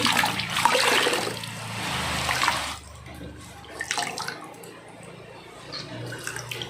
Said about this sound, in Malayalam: മുക്കിയിട്ട് നല്ല പോലെ പിഴിയണം നന്നായി പിഴിയണം